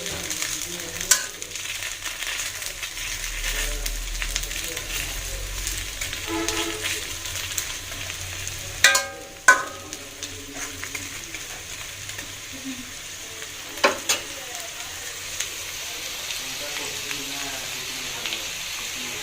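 Mustard flower fritters frying in a pan make a long, low, steady crackle with occasional louder clatters and bumps, heard at moderate distance.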